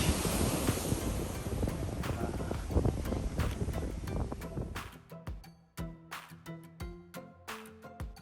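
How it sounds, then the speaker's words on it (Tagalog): Calm ocean waves at Kamole Beach in Kihei: a steady wash of surf mixed with wind buffeting the microphone, thinning out into scattered splashes and knocks near the end. "As you can see, mas kalmado ang waves kaysa last time."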